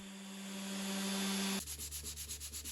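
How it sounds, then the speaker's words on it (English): Wood veneer being sanded by hand, a steady scratchy rubbing that builds up and then turns into rhythmic back-and-forth strokes, close and fairly quiet, with no talking. "first by hand and then with the machine again"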